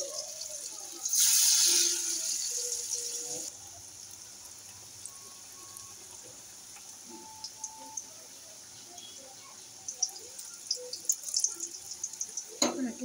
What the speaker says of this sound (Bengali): কড়াতে দেবো তেল হয়ে গেছে। আমি একে একে সব ছেড়ে দেবো।